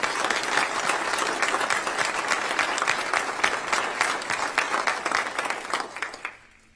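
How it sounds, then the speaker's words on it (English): Sustained audience applause at a military retirement ceremony for a brigadier general, dense steady clapping from a large crowd that holds for several seconds before tapering off at the end. "So I'd like to give Leslie and Matt's parents a round of applause."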